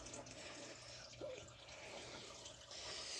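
Coolant from a 2010 Toyota Corolla 1.8 engine hose trickles steadily into a drain bucket, a faint continuous liquid patter with a few soft drips.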